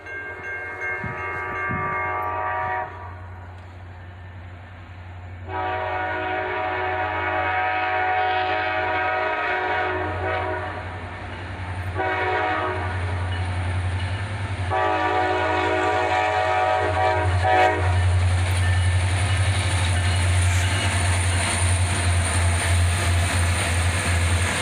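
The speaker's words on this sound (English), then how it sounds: "Another train led by EMD Power, another pair of SD-40-3s" A northbound CSX freight train led by a pair of EMD SD40-3 locomotives, originally built for the Louisville and Nashville, one in 1979, rumbles past steadily with several sustained horn blasts over the continuous rolling roar of the cars.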